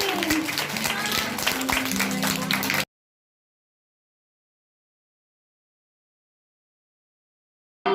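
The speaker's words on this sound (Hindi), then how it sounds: "जोरदार तालियों से स्वागत करते हैं फेरी गॉड टीम" A school audience claps to welcome a puppet show team, a dense burst of many hands for almost three seconds, followed by silence.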